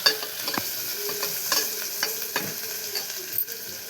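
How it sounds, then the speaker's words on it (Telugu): A spoon stirs chili powder and salt into food frying in a pan, with scraping strokes over a steady sizzle. It is close and fairly loud throughout. "కారం, ఉప్పు కారం వేసేసుకొని ఒకసారి కలిపేసుకుందాం"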